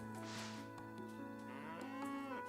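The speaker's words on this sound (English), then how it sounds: "let's milk my cow" A cow in the farming game Coral Island lets out a drawn-out, tonal moo while being milked, a clear sustained call heard close and alone with no talking.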